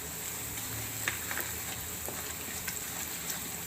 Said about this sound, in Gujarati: હવે આપણે આ તલ નાખી દઈશું